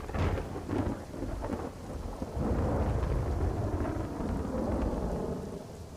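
Heavy monsoon rain pours steadily in Navsari, Gujarat, while deep thunder rumbles and rolls through, loud and continuous with no voices.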